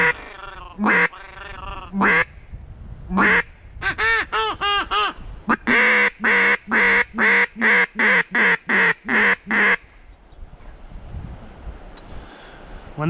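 Ducks quacking in flight above a hunting spot during a cold front, loud close calls in irregular bursts at first, then a fast run of about a dozen regular quacks before they fade out, with wind noise underneath.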